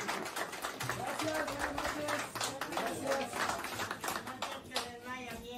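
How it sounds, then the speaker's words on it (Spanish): Audience clapping at a patron saint festival for Santo Niño Jesús in El Carrizal, Ciudad del Maíz, a dense, sustained patter of many hands under loud background music and voices. "fuerte el aplauso"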